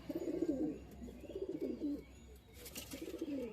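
A few young pigeons in a loft coo in three or four rolling bursts over a low background hum, close and moderately loud, with a brief rustle near the end and no talking.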